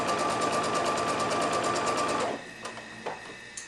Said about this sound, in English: we're going to sew our little strip in the center with this baby Lockley